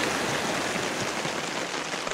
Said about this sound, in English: This rain just does not want to quit. It's been raining consistently, has not let up for a brief moment all freaking day.